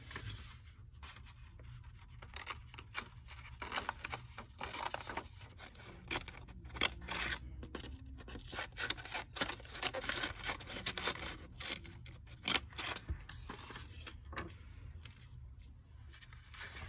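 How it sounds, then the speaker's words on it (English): Scissors snipping folded paper as it is cut into a moving paper fish, a quiet series of short, irregular crisp cuts and rustles, close up and with no voices. "make scissor cuts evenly towards the head end"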